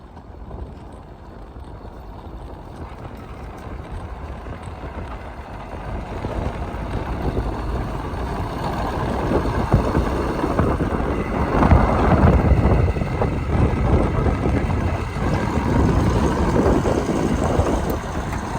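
A Bizon Power tractor pulling a five-furrow non-reversible plough runs with a steady, loud engine drone that swells toward the middle, with rumbling field noise and wind buffeting throughout and no talking.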